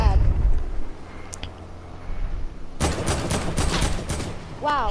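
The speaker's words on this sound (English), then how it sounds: "Oh, they're trying to snipe us." Sniper fire and a burst of rapid gunfire in the video game Fortnite; dense overlapping shots crowd the second half of the clip, with brief quieter in-game noises before them.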